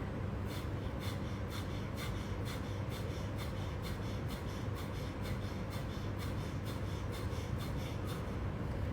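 Forceful, rhythmic nasal exhalations from pranayama yoga breathing, a steady series of sharp, evenly spaced snorting puffs over a constant noisy background, close to the microphone, with no talking.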